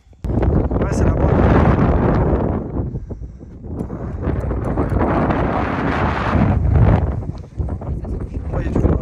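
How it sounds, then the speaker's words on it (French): Gusty wind buffets the microphone on a mountain hike up Puy de Sancy in Auvergne, rising and falling in loud rushing bursts while people talk over it. "Ouais, il y a du vent."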